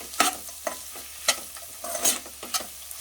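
Onions with cashews and almonds fry in a pan for a North Indian butter chicken, a soft sizzle broken by a few sharp scraping stirs spaced through the stretch.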